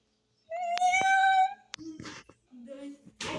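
A child playing a guessing game drawls a long, rising and falling imitation of a cat's meow, loud and close, followed by short spoken words from children.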